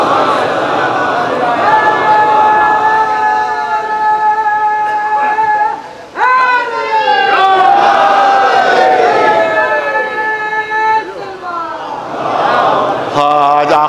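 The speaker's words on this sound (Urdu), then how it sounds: "ایک سلوات بھیجے بلند آواز" A large mosque congregation at a Muharram majlis loudly recites salawat in unison, a dense, sustained chorus of many voices rising in waves across the whole stretch, with a brief dip midway before swelling again.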